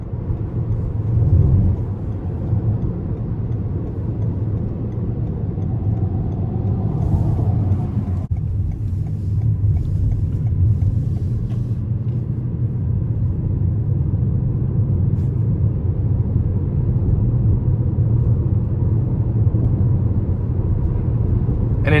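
Cabin road noise from a 2021 Toyota Venza XLE AWD on a rough, poorly surfaced road: steady low rumble and tire drone, a bump thud near the middle, continuous and fairly loud.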